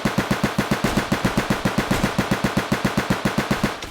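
A minigun in a video game fires in one long, fast, evenly paced burst, loud and close, each round distinct in a rapid mechanical rhythm that cuts off abruptly, with no talking.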